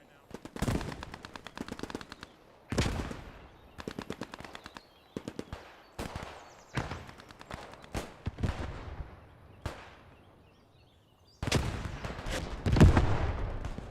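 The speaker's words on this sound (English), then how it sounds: "The mortars coming down." Mortar fire and explosions in the Post Scriptum war game, with repeated booming blasts and bursts of rapid gunfire rolling in waves, some close and loud, others distant, while a voice talks faintly underneath.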